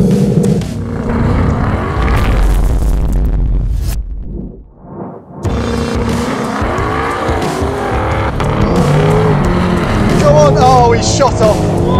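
A Ford Mustang Shelby GT500 in track mode accelerates on a racetrack, its loud engine roaring continuously with a brief drop near the middle before surging again, with tire noise and some talk mixed in.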